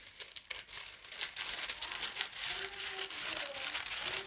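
Scissors cut through trouser fabric in a close, quiet, irregular run of crinkling, rustling snips with no talking.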